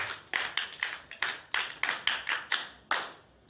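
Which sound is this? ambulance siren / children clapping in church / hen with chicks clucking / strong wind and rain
children clapping in church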